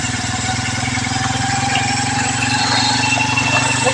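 A kulong-kulong motorcycle on a flooded Rumulo Highway keeps up a steady, close engine drone with a fast, even low putter and road and water noise around it.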